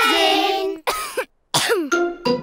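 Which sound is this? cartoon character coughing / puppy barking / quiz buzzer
cartoon character coughing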